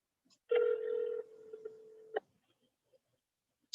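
A telephone call is placed over a computer speaker, with a sustained dial tone followed by short beeps and a few faint ticks, quiet and isolated against near silence.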